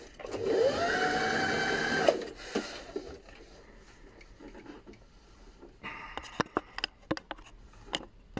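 A sewing machine motor whirs loudly at full speed for about two seconds, then stops; scattered light clicks and taps of the machine being handled follow at close range.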